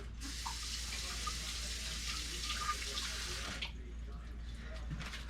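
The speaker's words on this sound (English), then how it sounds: "I'm going to give it actually a quick rinse" Kitchen tap water runs steadily over a rubber scraper during a quick rinse, a continuous hiss and splash that cuts off near the end, leaving a low hum and faint drips.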